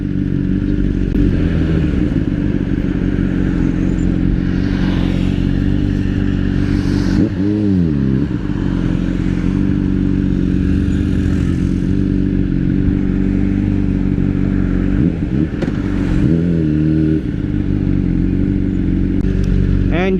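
Motorcycle ride on a road, with a steady engine drone and wind rumble running continuously throughout, plus brief revving swells and passing rushes midway and near the end.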